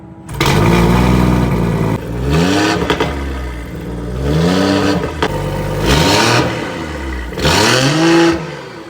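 Loud, deep engine revving of a Stage 2 tuned BMW X3 M40i through a sporty CSF exhaust in repeated bursts, each rev rising and falling with a crackling rasp, close to the listener.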